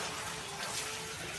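Water rushes steadily into a concrete pond filter packed with filter media, a close, continuous hissing flow with no breaks over a brief moment.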